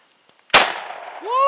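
Outdoors at a ranch, a single loud gunshot cracks sharply and decays, hitting a can, preceded by a few faint ticks and followed by a rising voice.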